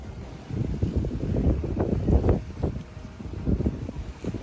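Gusty wind by a lake in Shizuoka, Japan, buffets the microphone in uneven surges, rising and falling over a low rumble outdoors.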